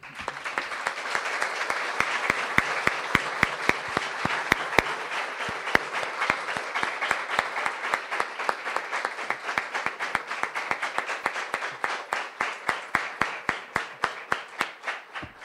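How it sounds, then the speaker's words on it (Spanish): Sustained audience applause for the authors at a book presentation in a hall, dense and steady throughout, with sharp individual claps standing out and thinning toward the end. "pedirles un fuerte aplauso para los autores de este libro"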